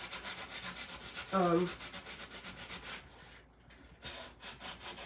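Sandpaper grinding thick paint off a wooden step stool, a loud rhythmic back-and-forth rasp that pauses briefly before the strokes resume.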